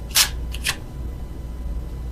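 Tarot cards being shuffled, with two quick crisp riffling bursts near the start followed by quiet, close and alone.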